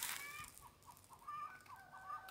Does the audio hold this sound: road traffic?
no